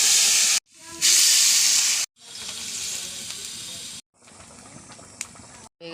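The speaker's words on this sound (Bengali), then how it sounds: "মশলাটা সুন্দর করে কষিয়ে নিয়েছি।" Spice paste sautés in a pan for a fish curry, giving a loud hissing sizzle that comes in several separate bursts with short silences between them, close and unaccompanied.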